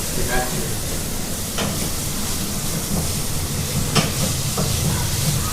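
Chicken curry sizzles loudly in a hot pan while it is stirred, making a dense, steady frying hiss with a few faint scrapes.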